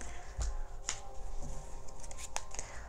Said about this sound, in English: let's shuffle, see what other messages need to come through for you